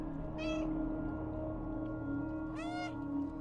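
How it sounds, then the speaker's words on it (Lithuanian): Two distinct meows from a cat in the video game Stray, a short one early and a longer one near the end, heard over a steady low background drone. "Šeima mano miauksi."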